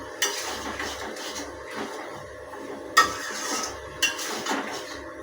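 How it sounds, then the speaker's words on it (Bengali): Metey chorchori is stirred in a metal kadai, with soft, steady scraping and a few sharper metallic knocks and clinks spaced a second or so apart, close and alone. "যতক্ষণ না এটা কষানো হচ্ছে বা কড়াই থেকে তেল ছাড়ছে ততক্ষণ পর্যন্ত এটা নাড়তে থাকুন।"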